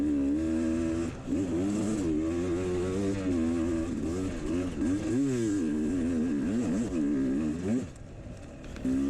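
A 2020 Sherco 300 enduro motorcycle rides a winding Ozarks hard-enduro trail, its engine droning steadily and rising and falling in pitch with throttle changes, close up, with a brief dip near the end.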